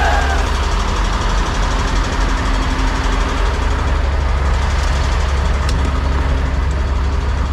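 A reefer unit's diesel engine runs loud and steady close by, a dense continuous rumble with no pauses, after a cold-weather start on a low battery.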